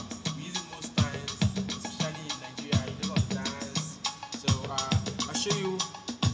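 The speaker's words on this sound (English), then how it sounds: "It's a slow kind of music on a 3/4 time signature," African ariaria gyration music in slow 3/4 time: a swaying triple-meter groove with steady low drum hits under layered melodic instruments, full and moderately loud throughout.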